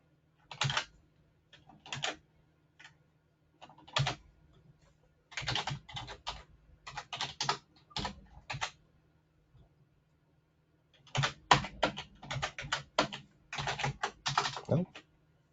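Bursts of rapid clicky typing on a computer keyboard, close and crisp, arriving in several irregular runs separated by short pauses.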